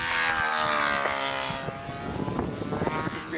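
A model airplane flying at a windy control-line nationals contest gives a loud, buzzing propeller whine with shifting pitch, close by and continuous across the few seconds, with wind noise mixed in.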